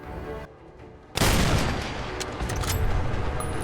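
A modded PTRD-41-style 20 mm anti-power armor rifle in Fallout 4 fires once with a sudden, loud, close blast, its heavy report ringing out and decaying over a few seconds with no voices.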